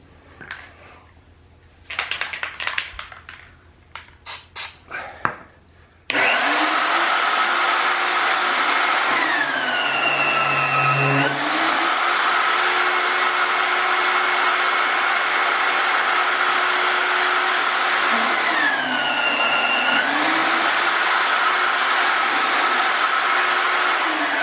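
A magnetic drill bores holes through metal while installing a Winter Equipment Xtendor. It roars loud and steady, with a brief tonal shift partway through as the cut loads and eases, after a few seconds of sharp knocks and clatter.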